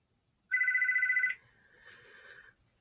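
A telephone rings once with a steady electronic trill, loud and close, followed by a fainter tone that trails off.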